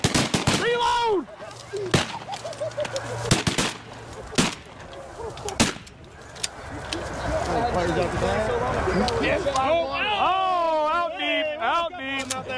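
Shotguns firing at geese during a hunt on a Texas pond: a quick volley of loud, sharp blasts from several guns, then more spaced shots, with hunters talking and geese honking loudly overhead.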